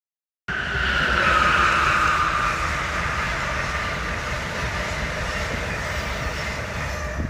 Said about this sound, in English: And there goes the SEPTA train coming in.